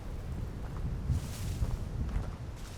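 Thunderstorm and rain in Vintage Story, a low rumbling of distant thunder rolling under a steady wash of rain and wind, fairly quiet and continuous.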